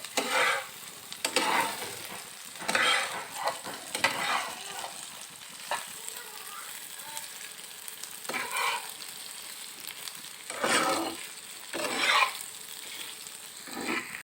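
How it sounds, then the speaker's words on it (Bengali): Food frying in a pan while being stirred, with intermittent scraping bursts of the spatula over a continuous soft sizzle, heard close and alone. "নেড়ে চেড়ে নেবো"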